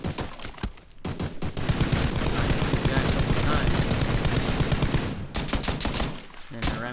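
Rapid, sustained bursts of automatic gunfire fill a match of the battle royale video game PUBG, loud and continuous for several seconds with short gaps near the start and end.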